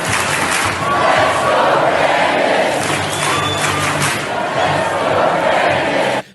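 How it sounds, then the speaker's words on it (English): A loud college football stadium crowd chants "Let's go Brandon" in unison, a dense roar of many voices filling the whole stretch with rhythmic shouted phrases and steady cheering. "So now they are actually cheering "Let's go, Brandon" as a joke."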